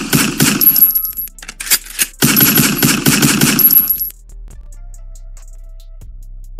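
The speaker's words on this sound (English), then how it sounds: "Shots fired, ladies and gentlemen, shots fired." Gunshot sound effect as a dense burst of rapid repeated shots with metallic ringing, loud and close, stopping abruptly and leaving a low steady hum.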